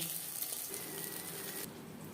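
Batch of eggplant slices frying in hot oil for a vegetarian begun bahar, giving a steady broadband sizzle that holds evenly throughout with no voices.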